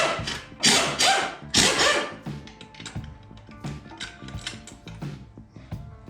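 Mechanical work on a 6.0 LS engine during teardown as the oil pump pickup comes off: a run of sharp metallic clanks, taps and tool clicks, loud bursts early then smaller irregular knocks, with no talking.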